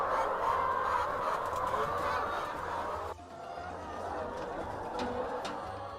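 Poultry calls at a small chicken-keeping farm in Uganda, loud honking, clucking fowl voices running continuously, with a brief dip in level midway before the birds carry on.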